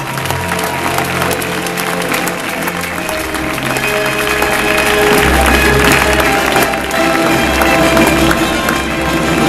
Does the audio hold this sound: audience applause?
yes